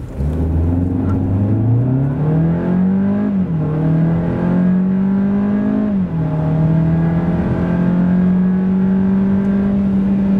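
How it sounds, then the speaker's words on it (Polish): A Cupra Formentor with the 1.5 TSI petrol engine pulls hard from a standstill to 100 km/h, its steady engine drone climbing in pitch through each gear with brief dips at the upshifts, loud and continuous with no talk. "tak samochód przyspiesza od 0 do setki"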